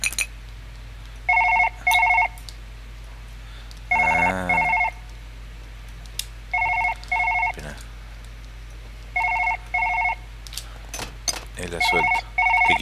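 In Surgeon Simulator 2013, a telephone rings in repeated short double bursts with pauses between, loud and close, while a voice talks briefly and a low background hum continues underneath.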